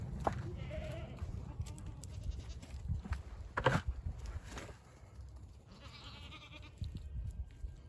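Several goats bleating in short, wavering calls while being sorted in a pen for sale, mixed with shuffling hooves, clatter and a low rumbling background, with a person's voice briefly heard.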